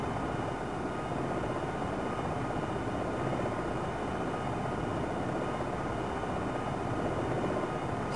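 A helicopter flying forward at speed in the Jane's Longbow 2 flight simulator, producing a continuous dense rotor and turbine roar at steady loudness with no voices.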